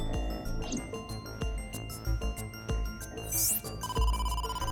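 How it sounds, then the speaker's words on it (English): Phone ringtone from a call arriving in the detective adventure game AI: The Somnium Files, a short chiming electronic tune repeating over game music with percussive hits. "Oh, phone call."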